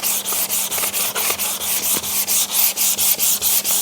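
A wooden mallet is sanded by hand with 180 grit sandpaper: quick, even back-and-forth scratchy strokes in a steady rhythm, close and loud with no talking.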